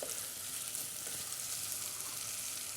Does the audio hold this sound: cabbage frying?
yes